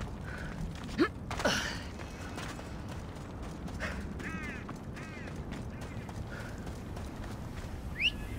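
Hollow rhythmic clip-clop of a horse's hooves at a steady trot in the video game Assassin's Creed Odyssey, joined by a few creaks and short bird-like squawks over a low ambient hum.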